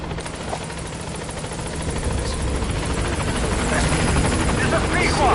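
Support helicopter rotor chopping in Metal Gear Solid V, growing steadily louder as it arrives at the landing zone, with radio-style voices speaking over the drone.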